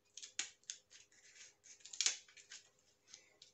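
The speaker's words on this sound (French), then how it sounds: "je vais prendre mes petits ciseaux de précision" Several small precision scissor snips, crisp and close, in an irregular series with one louder cut near the middle; no voices.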